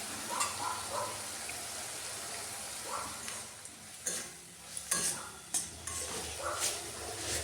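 Spice masala with chopped tomatoes, green chilli, coriander powder, salt and chilli powder frying in a pan, a steady sizzle broken by repeated stirring scrapes and clinks, close and clear, with no talking.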